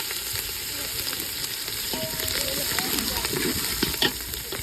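Curry leaves and green chilies crackle and sizzle in hot oil for egg biryani, a dense, steady frying hiss with scattered pops and sputters throughout, close and fairly loud.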